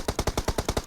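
Rapid peek-shot gunfire in PUBG Mobile: about eight sharp, evenly spaced shots in under a second, loud and close, with no voices.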